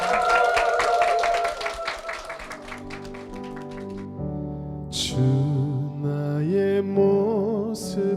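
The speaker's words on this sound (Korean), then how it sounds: "우리 귀한 간증 들려주신 두 분께 축복의 박수 부탁드리겠습니다" A church congregation applauds after a testimony, loud sustained clapping that fades as music with sustained tones rises in.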